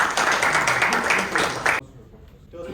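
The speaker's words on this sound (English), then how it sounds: "Once again, a big round of applause to the entire debate team." Brief burst of applause for a debate team at a Toastmasters club meeting, scattered clapping for under two seconds that cuts off abruptly into near silence.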